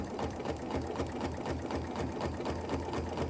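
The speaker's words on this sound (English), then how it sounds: "go nice and slow with this stitch until you start working up your speed and accuracy to go a little bit faster" A sewing machine stitches fabric for a drawstring bag at a slow, steady pace, giving off an even mechanical whirr with a regular rhythmic needle clatter. It is close and alone.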